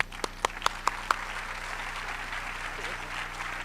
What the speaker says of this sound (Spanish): Recibimos ahora sí con fuertes aplausos a Julio Matius